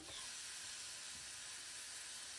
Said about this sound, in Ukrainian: та постійно помішуючи, обсмажую наші яблучка